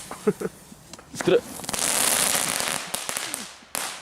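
Firecrackers and fireworks from a box go off outdoors on New Year's Eve in Poland, with sharp close bangs followed by a loud crackling hiss and another pop, while people talk nearby.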